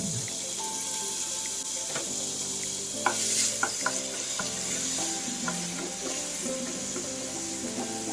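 White onion fries in a spoonful of olive oil, giving a steady moderate sizzle with occasional light stirring taps and scrapes near the pan.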